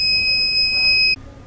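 A home UPS inverter in overload gives a continuous high-pitched electronic buzzer tone, loud and steady for about a second before cutting off abruptly over a low background hum.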